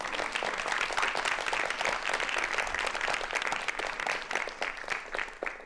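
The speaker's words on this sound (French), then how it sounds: "On peut aussi l'applaudir d'ailleurs." Steady audience applause at a live event, a dense crowd of clapping hands sustained evenly from start to finish.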